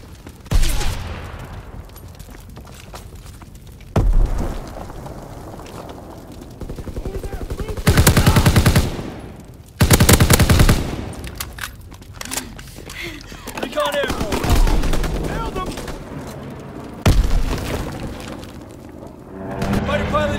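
Bursts of machine gun fire and strafing runs rip through a World War 2 capture-the-flag video game match, loud and repeated in heavy volleys with pauses between, while in-game voice callouts speak over the shooting.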